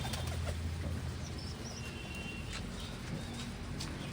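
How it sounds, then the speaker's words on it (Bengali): Pigeons kept in a loft give faint coos and occasional wing flutters over a steady, noisy background, with no voices. "এই যে দুটো পায়রা ওই বাড়িতে বাচ্চা হয়েছে আমি কাল নিয়ে এসেছি এখানে রাখবো বলে"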